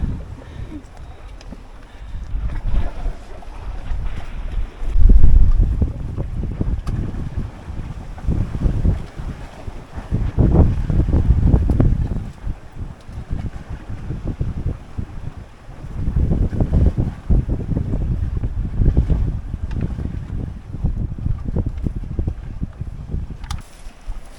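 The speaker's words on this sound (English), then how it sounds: "And it's very windy." Strong gusting wind buffets the microphone with heavy low roaring that swells and eases repeatedly, alongside the sound of a sailing boat cruising open water on Alaska's Inside Passage.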